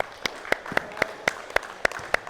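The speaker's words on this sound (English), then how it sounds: "Give them all a clap." A group of young kids at a youth basketball session clap in a loose, steady rhythm, roughly eight distinct sharp claps over a couple of seconds, fairly close and clear.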